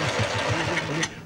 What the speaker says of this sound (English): Now start the engine for me, Arthur.